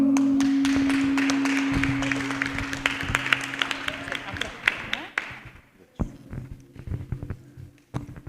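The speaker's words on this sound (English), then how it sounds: "Everybody clap." An audience at a cultural satsanga gathering applauds, a dense clapping that gradually fades over several seconds into scattered claps, with a steady hum underneath and some talk in the background.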